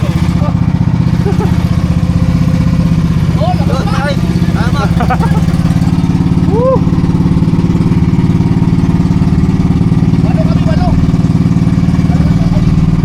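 A motorboat engine drones loudly and continuously, with voices and shouts breaking in over the steady rumble.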